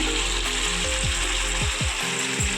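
Meat being sautéed in a pan, a rich sizzling frying hiss running steadily throughout, with a few sharp clanks of a utensil against the pan near the end and no talk.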